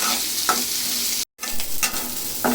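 Onions and cashews sauté in a pan for a chicken dish, giving a steady close sizzle broken by brief spoon-stirring scrapes and a short silent gap midway.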